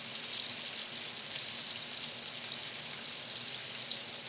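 Battered pork cutlets deep-fry in hot oil in a pan, giving a dense, continuous sizzle and crackle that stays steady and close throughout, with no voices.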